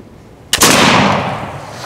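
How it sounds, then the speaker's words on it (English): A single loud, close shot from a Lyman Great Plains flintlock rifle, a sharp crack followed by a long booming decay that fills the rest of the moment. "I gotta load this thing up and shoot it some more."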